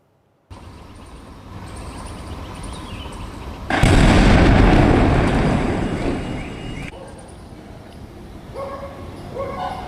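Explosion blast in Rohini, Delhi: a sudden loud, broad boom bursts out over steady background noise partway through, then rumbles and fades over a few seconds.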